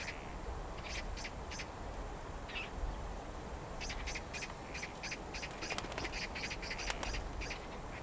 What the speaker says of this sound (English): the rough-legged hawk is pushed away by the smaller birds